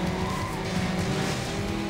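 Modded racing car in a car racing video game, its engine roaring continuously with tire squeal and skidding noise in a dense, loud mix throughout.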